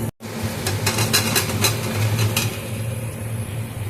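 Boiled potatoes being stirred and sautéed into a cooked-down spice masala with a little sugar in a pan, giving a steady close sizzle with repeated scraping stirs, no talking.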